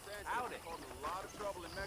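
Horse hooves clip-clopping in Red Dead Redemption, a steady walking rhythm heard beneath a voice that talks throughout the short stretch.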